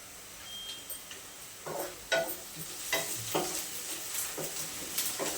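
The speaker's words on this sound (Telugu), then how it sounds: "ఉల్లిపాయలు వేగుతున్నాయి కదా, వేగిపోయేవి బ్రౌన్ కలర్లో వచ్చాయి" Chopped onions frying in a pan for Andhra-style crab curry, a steady close sizzle broken by repeated scraping stirs roughly every second.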